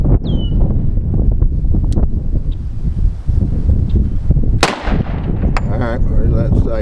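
A single sharp report rings out from an M&P 10mm pistol firing a 165 grain Lee cast bullet loaded with Power Pistol powder, heard outdoors amid rumbling wind noise on the microphone.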